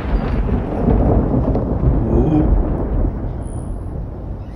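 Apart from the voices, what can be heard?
thunder during a rainstorm in California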